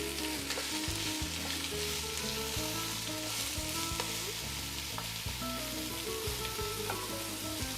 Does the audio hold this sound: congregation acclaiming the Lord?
no